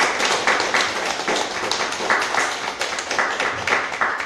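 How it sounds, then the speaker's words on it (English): A gallery audience claps at an evening poetry event at an art gallery, steady scattered hand claps filling the space for a few seconds at moderate level with no one speaking. "please clap for our hosts"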